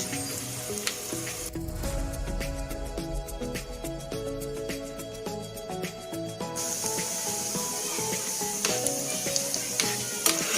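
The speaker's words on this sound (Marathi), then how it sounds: "काजू फक्त असे थोडे गोल्डन होईपर्यंत फक्त फ्राय करून घ्यायचे" Cashews fry in hot oil until golden for a vegetable paneer pulao, giving a steady sizzle and hiss throughout, with a busy mix of other sounds layered over the frying.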